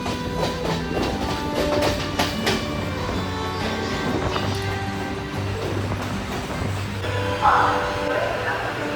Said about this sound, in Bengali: আমরা চলে এলাম কলকাতা রেলওয়ে স্টেশন।